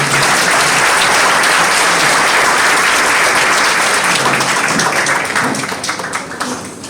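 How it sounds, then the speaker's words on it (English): A crowd at a graduation party in a Juba hotel claps loudly and continuously, dense and close, holding steady before thinning slightly toward the end. "Let us clap for them"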